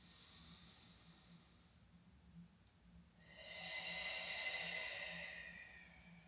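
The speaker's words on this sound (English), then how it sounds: "One more deep breath." A slow, deep breath taken during a core exercise, a soft, close airy inhale that swells gradually and holds, heard alone in a quiet room.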